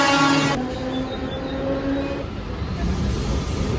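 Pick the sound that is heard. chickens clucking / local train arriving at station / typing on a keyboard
local train arriving at station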